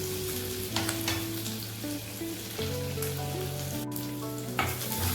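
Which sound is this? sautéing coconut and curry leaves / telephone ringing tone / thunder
sautéing coconut and curry leaves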